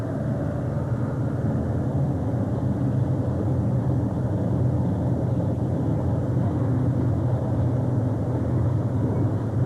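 A 1979 Ford pulling tractor roars continuously at a tractor pull, a dense, steady low rumble of sustained engine power with no break across the stretch.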